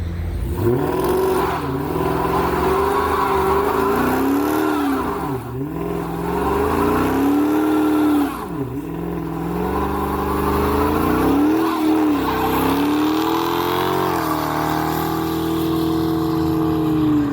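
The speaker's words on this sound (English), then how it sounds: "I've got a car sitting outside with 707 horsepower that is just begging me to do something stupid in." A 707-horsepower car revs hard and skids, its engine rising and falling through repeated sweeping pitch swings with tire squeal, loud and close throughout, no talking.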